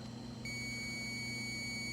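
A single high electronic beep from a refrigerator control starts partway through and holds as a thin steady tone over a constant low mechanical hum.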